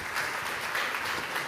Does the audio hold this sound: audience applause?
yes